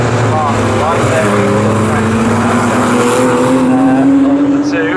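Porsche race cars racing at Snetterton circuit, a loud continuous engine drone with rising pitch as cars run close together, steady and near throughout.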